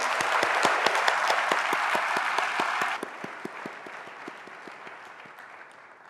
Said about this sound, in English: Shall we clap again?